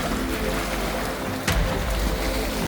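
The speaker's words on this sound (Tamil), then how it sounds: "பாருங்க 2 போட் பாருங்க மீன் பிடிக்க போய்கொண்டிருக்குது." Two fishing boats heading out to sea off Palali beach: a steady, broad wash of surf and wind with a faint distant motor drone and a brief gust or splash midway.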